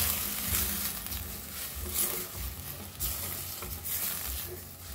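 Food fries in a pan for Goan arroz pulao, a continuous close sizzle broken by regular scraping stir strokes, with no talking.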